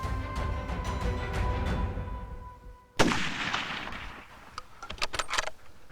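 Single rifle shot from a hunter firing at a free-range nilgai bull in South Texas; a sharp, loud blast cuts through quiet outdoor ambience midway, followed by faint rustling and small clicks.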